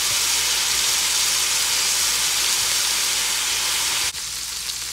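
Pepper steak sizzling steadily in a hot pan just after being flipped, a loud continuous hiss and crackle that drops slightly near the end.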